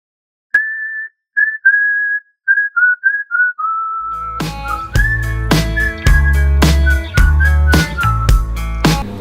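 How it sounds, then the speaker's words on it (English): A whistled melody, sounding like a stock whistle preset from FL Studio, plays alone in short phrases, then continues over a backing track of synth and punchy percussion. "It sounds like a stock whistle preset from Fruity Loops or something."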